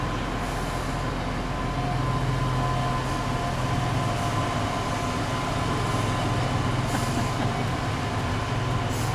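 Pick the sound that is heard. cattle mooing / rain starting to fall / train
train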